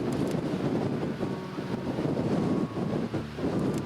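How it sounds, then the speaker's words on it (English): Strong wind buffets the microphone on a coastal hiking trail at Western Point, Heart's Delight, Newfoundland, a loud continuous roar with gusty swells and no break. "The wind's blowing so hard."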